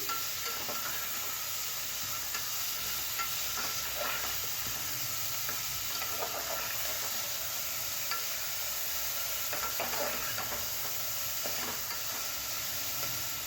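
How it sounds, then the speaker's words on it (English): Green and red chilies sautéed with curry leaves in a pan, a constant loud sizzle and hiss with occasional scraping stirs, no talking. "green chili and red chili. Now saute all this"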